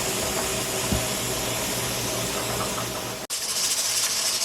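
Steady loud hissing of steam venting from a pressure canner fills the clip, a constant roar that briefly cuts out near the end before resuming.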